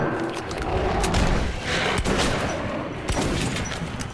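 Shotgun blasts and loud combat noise in Metro 2033 Redux, several heavy booming shots with sharp transients over a thick, continuous din of game action.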